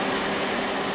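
A 2009-2015 Honda Pilot idles in 102-degree heat with its radiator and AC condenser cooling fans running, a steady, close whooshing hum of fan air over a low engine drone, with no voices.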